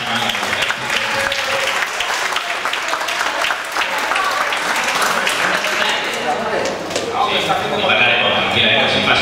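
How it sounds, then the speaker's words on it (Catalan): An audience applauds people being recognised for their work, clapping heard alongside talking voices, fairly loud and continuous throughout. "Perquè sí que es mereixen un aplaudiment tots aquests que estan treballant."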